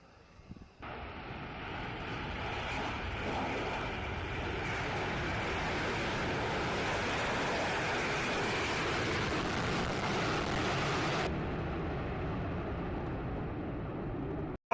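A HAL Tejas LCA Mark 1 fighter jet at the Bengaluru air show roars overhead, a loud, broad, continuous jet rush that rises quickly, holds for over ten seconds and then fades.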